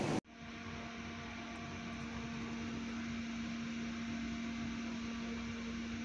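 A Mitsubishi car AC blower motor fan whirs in a steady, quiet hum with a faint tonal whine after a brief click at the start, running alone without talk.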